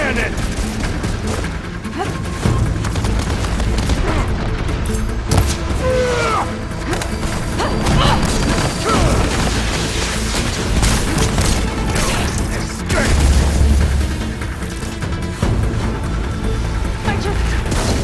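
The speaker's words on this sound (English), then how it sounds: "I love this cannon!" A cannon fires repeatedly in the video game Horizon Forbidden West, with loud booming blasts, crashes and splintering impacts in a dense, chaotic battle mix that continues throughout.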